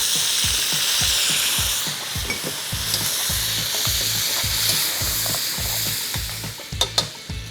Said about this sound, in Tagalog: At habang binabrown natin yung ating duck, season lang natin ng salt at konting toyo.